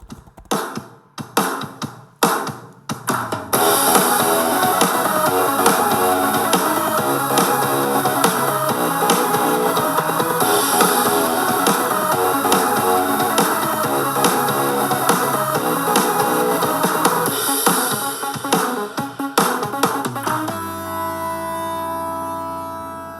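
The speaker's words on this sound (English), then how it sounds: "is a remix of the theme tune I used last year" Several punchy staccato hits open into a loud, continuous electronic music track with a driving beat, ending abruptly into a quieter tail.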